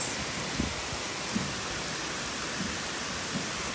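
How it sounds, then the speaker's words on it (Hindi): Soft, steady hiss of rain falling outside in China, even and continuous, with a few faint low thumps. "तो इसमें बारिश शुरू हो गई है"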